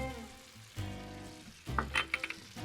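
Chopped onions and shallots hit melted butter in a pan and start to sizzle quietly, with a few clinks and stirring scrapes near the end and no talk.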